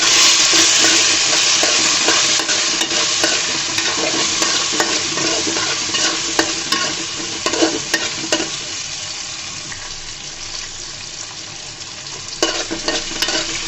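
Cut vegetable stalks and potatoes fry in a pan with a continuous crackling sizzle. Repeated sharp clinks and scrapes of stirring are heard, and the sound softens slightly toward the end.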